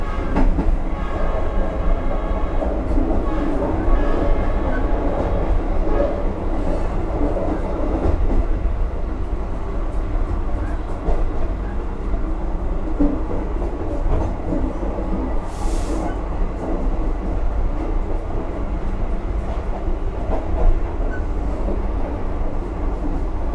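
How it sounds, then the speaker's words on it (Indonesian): Steady rumbling interior noise of a moving Pariaman Express train in Indonesia, hauled by a BB 303 locomotive, with continuous rail roar and faint rhythmic clatter throughout, no voices. "Mari kita nikmatin perjalanan naik kereta api Pariaman Express."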